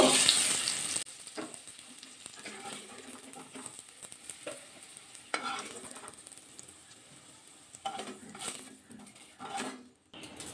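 Potatoes frying in oil in a covered pan, with a steady close sizzle broken by several clattering stirs and pot or lid knocks as the pieces are turned.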